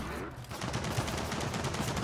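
Rapid automatic gunfire rattles in a Gears of War 4 battle, a continuous stream of close, evenly spaced shots after a brief quieter opening.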